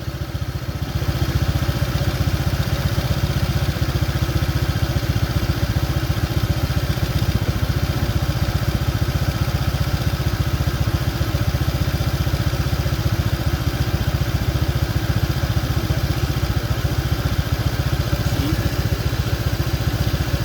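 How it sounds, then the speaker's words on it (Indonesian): A motorcycle engine idles at about 1674 RPM during a laser tachometer reading, a loud steady close-up rumble with an even clattering pulse running unchanged for the full twenty seconds. "Setelah mesinnya hidup, kita arahkan lasernya."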